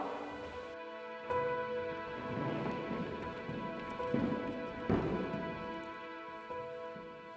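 Steady rain falling on a surface, a soft continuous patter with a few louder splashes and a faint low rumble underneath.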